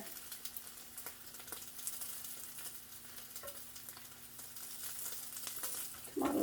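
Bacon frying in a hot pan gives a faint, steady crackle and sizzle with a few scattered pops, ending in a brief louder clatter.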